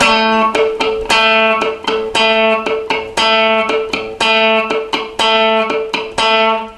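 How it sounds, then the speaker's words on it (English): Repeated guitar notes plucked down-up with a plectrum, in a quick, steady rhythm with sharp attacks, each note ringing briefly before the next; slightly distorted tone, no voices. "use the plectrum to pluck down on the note"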